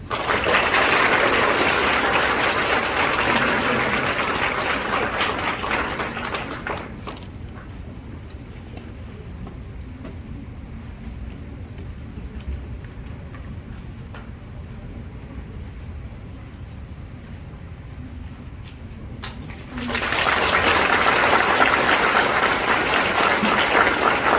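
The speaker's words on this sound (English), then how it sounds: "Please join me in one more round of applause for the Character Award recipients" Loud applause from a school audience at an elementary graduation ceremony honoring Character Award recipients: a sustained burst of clapping fades to quiet murmur, then a second round swells up again near the end.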